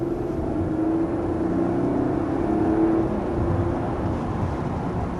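A 2024 Mercedes GLS 450 engine hums as a low, smooth, steady drone heard from inside the cabin while driving, muted and even with no talk over it.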